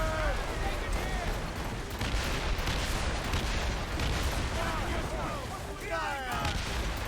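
Ship cannons firing during a naval battle in the video game Assassin's Creed Rogue: dense, continuous booming and rumbling broadside fire, loud and close, with shouted voices over the barrage.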